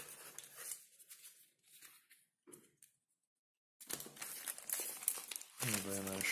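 Packaging for a Xiaomi Redmi Note 7 phone being opened, with close crinkling and rustling of plastic and paper in bursts between pauses, and someone talking.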